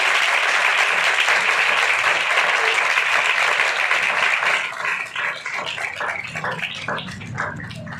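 Congregation applause in a church service, dense steady clapping that holds loud for several seconds, then thins into scattered claps and fades near the end.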